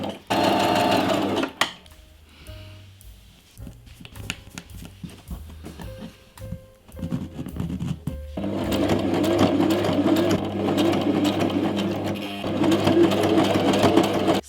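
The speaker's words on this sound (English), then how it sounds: "So I'm at the point of stitching the lining and the upper together." A sewing machine stitches a shoe's lining and upper together in loud, close, steady mechanical whirring bursts, with a brief pause and lighter handling noises in the middle.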